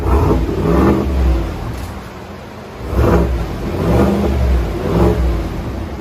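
A 2020 GMC Sierra AT4 pickup's 6.2L V8 dual exhaust with Borla Touring mufflers revs repeatedly in a few swells, deep rumbling bursts rising and falling at moderate volume, heard close by, around 90-95 decibels.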